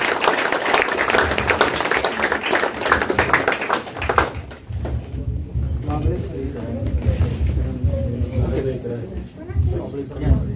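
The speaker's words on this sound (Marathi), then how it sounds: "त्याला हवा येऊ द्या आणि जोरदार टाळ्या देऊ द्या" An award ceremony audience gives a burst of dense clapping for about four seconds. Amplified speech then follows.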